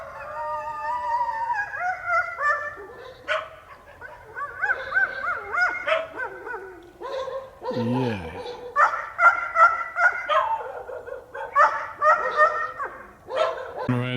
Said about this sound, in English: And very noisy dogs.